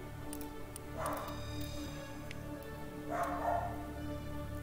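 Two muffled barks from a dog in a home, separated by a pause, sitting low beneath a constant background drone with no voices.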